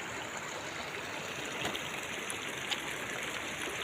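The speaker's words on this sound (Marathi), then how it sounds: "तरी पण वाहिले पुलावून पाणी" Floodwater pours across a low bridge after heavy overnight rain, a steady, broad rushing wash heard continuously from nearby, with no speech.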